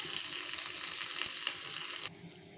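Onion, curry leaves and crushed garlic frying in oil for sambar give a steady, close, bright sizzle with faint stirring, which drops to a quieter crackle near the end.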